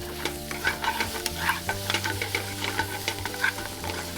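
A pan-seared veal steak with lemon, blistered tomatoes and carrots sizzling steadily in a pan, with light crackles, pops and occasional utensil scrapes over a low hum; no voices.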